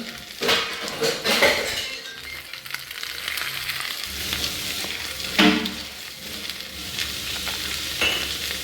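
Pieces of black pomfret fish, coated in semolina, frying in hot oil: a continuous close sizzle with bursts as pieces go in, plus clinks of a utensil against the pan.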